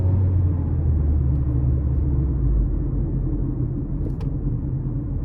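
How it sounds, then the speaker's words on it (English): Naturally aspirated 2.0-litre four-cylinder engine of a 2014 Mazda CX-5 under light throttle on the road, a steady low rumble from inside the car that eases slightly partway through, with no talking. "We'll give it a little throttle here."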